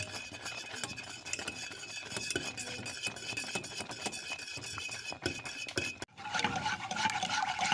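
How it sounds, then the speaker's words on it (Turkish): A spoon scrapes and stirs thickening cocoa semolina dessert in a pot, with steady close clinks and scraping against the metal that grow louder and busier near the end. "Biraz katılaşana kadar karıştıracağız"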